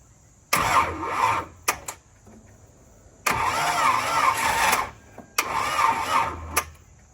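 An LS-swapped Hyundai Genesis Coupe, its loose starter cable just tightened, cranks in three separate loud attempts, each a rough churning burst lasting one to one and a half seconds with short quiet gaps and clicks between.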